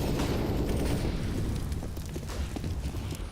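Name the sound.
molotov cocktail burning in Counter-Strike video game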